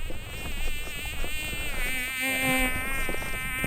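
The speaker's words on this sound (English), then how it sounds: "Oh my gosh, a mosquito biting my face." Mosquitoes whining close around a person's face outdoors on an inshore fishing trip, a steady high-pitched buzz that swells and fades as they circle, alone with no talk.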